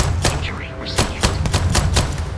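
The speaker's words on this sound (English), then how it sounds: "Taking fire!" Gunfire in the sci-fi game Starfield, a string of sharp shots at irregular spacing over a low rumbling bed with voices in the background.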